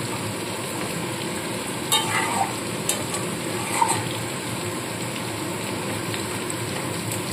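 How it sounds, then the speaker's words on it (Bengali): Mutton frying in a pan for korma gives a steady, loud sizzle that runs throughout, with a few sharp scrapes and clinks of stirring against the pan and no talking. "দিয়ে এবার সমানে কষাতে থাকছি, কারণ মটন সেদ্ধ হতে কিন্তু বেশ খানিকটা টাইম লাগে"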